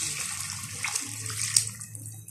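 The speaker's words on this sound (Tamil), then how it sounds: "இப்போ நம்ம தண்ணி ஆட் பண்ணிக்கலாம்" Water poured into a pot of soaked rice while cooking vegetable biryani, a steady close splashing pour with a low gurgling rumble throughout, alone without talk.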